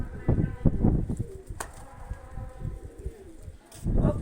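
Soft, low cooing of a pigeon, repeated in short bursts, with a voice speaking nearby and some background movement.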